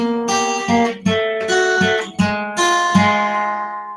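Electric or acoustic guitar plays a 12-bar blues lick, a run of plucked notes alternating down and up strokes, each attack ringing with bright harmonics in a steady loose rhythm, close and clear with no talking.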